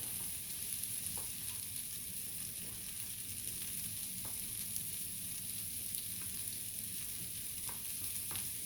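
Potatoes and onions fry in a skillet with a constant soft crackling sizzle, steady and moderately quiet, with faint occasional utensil taps.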